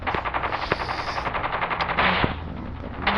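Rapid automatic gunfire in Call of Duty, a dense continuous burst of shots running throughout at close range, with a louder swell near the end and no talk.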